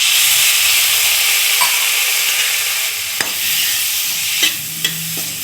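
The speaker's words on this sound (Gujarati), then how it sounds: "સહેજ એમાં આપણે થોડુંક પાણી નાખશું." Chilli relish (marcha no sambharo) sizzles steadily in a pan as water goes in, a constant loud frying hiss broken by a few sharp clinks of stirring near the end.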